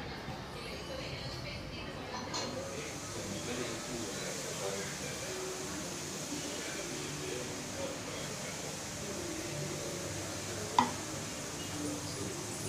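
Omapodi dough is pressed into hot oil, giving a steady, quiet sizzle and hiss throughout, with one brief click near the end.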